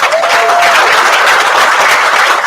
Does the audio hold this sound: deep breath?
no